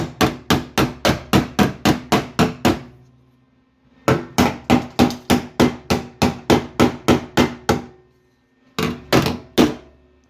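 A hammer taps a rusty patch panel on a Ford dentside truck door, loud close metallic blows in three quick steady runs of about ten strikes each, with short pauses between.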